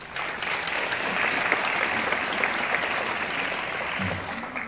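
An audience at a taekwondo demonstration team festival in a youth cultural center hall claps in sustained, even applause for several seconds, tapering slightly at the end.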